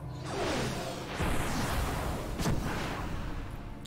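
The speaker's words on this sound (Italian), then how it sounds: "Esplosione livello 2." A level 2 explosion spell in the Vagrant Story game bursts as a loud, roaring blast with a swooshing build, a second sharp boom about midway, then a rumbling decay with no talk.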